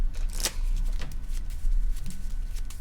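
A deck of playing cards shuffled at a Keyforge tabletop card game tournament: rapid riffling and sliding bursts close up, with a sharp flick, continuous for a few seconds and heard alone.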